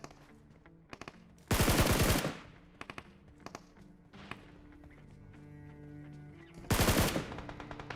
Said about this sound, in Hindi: राइट साइड में एक UMP45 चल रही थी